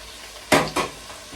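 Spring onions frying in a pan: a low sizzle broken by two quick loud clatters of utensil against pan, then a brief soft knock, close up with no speech.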